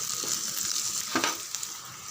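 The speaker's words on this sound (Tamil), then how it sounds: "இந்த பூண்டையும் அப்படியே சேர்த்துறேன். இன்னும் ஒரு 3 நிமிஷம் நல்லா வதங்கட்டும்" Garlic sautéing in oil in a pan for kara kuzhambu, a soft continuous sizzle with light stirring scrapes and a brief clatter of the spoon midway.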